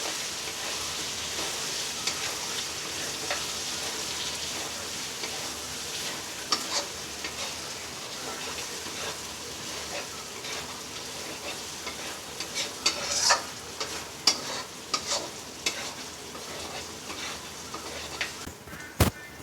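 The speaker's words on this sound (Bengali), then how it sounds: "এবার লঙ্কার গুঁড়ো আর হলুদটা দিয়ে কষাতে থাকবো।" Chicken curry is sautéed with chili powder and turmeric in a continuous hiss of frying, with a spoon scraping and stirring the pan close by and a few louder clacks toward the end.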